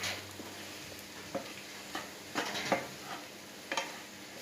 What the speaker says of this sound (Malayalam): നാളികേരം ചേർത്ത ശേഷം നന്നായി ഇളക്കിയിടണം